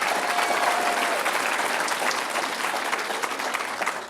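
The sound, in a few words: audience applause at awards ceremony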